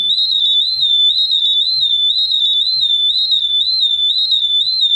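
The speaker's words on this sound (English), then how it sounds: "I'm going to hit reset to silence the alarm on the GX-6000" A GX-6000 gas detector's high, warbling electronic alarm beeps continuously in a steady repeating pattern, loud and close, with no talking.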